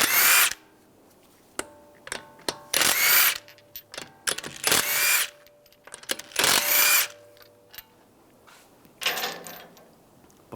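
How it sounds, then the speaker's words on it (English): Power impact tool spinning out 19mm wheel lug bolts on a 2013-2016 Dodge Dart, several loud whirring bursts separated by pauses and small metallic clicks, close up with no talking. "Take the lug bolts out."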